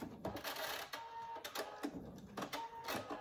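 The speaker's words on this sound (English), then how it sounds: "And then I'm going to backstitch just to secure it." A sewing machine backstitching the end of a fabric dog collar runs in quick short bursts of mechanical whirring and clatter, faint and steady with brief pauses between stitch runs.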